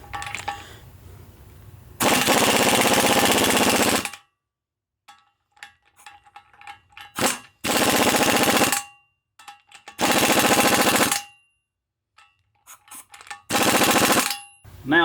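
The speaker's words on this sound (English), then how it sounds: "I'm going to go ahead and get my impact, about 90 psi pressure." A pneumatic impact wrench at about 90 psi works on a Ford 4000 row-crop tractor axle, firing loud rattling bursts of roughly two seconds each, four times with short gaps and scattered clanks between them.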